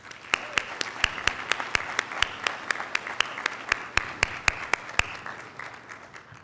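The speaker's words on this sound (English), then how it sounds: "Let's give her another round of applause." An audience at a WGU Tennessee commencement ceremony applauds, mostly with sparse loud individual claps in a steady rhythm and a softer spread of applause behind them, close to the microphone.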